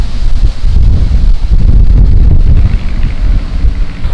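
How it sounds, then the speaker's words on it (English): Strong wind buffets the microphone aboard a narrowboat, a loud continuous low roar that rises and falls in gusts throughout, with no other sound breaking through. "Really windy. Yeah, and we're getting blown all over the place."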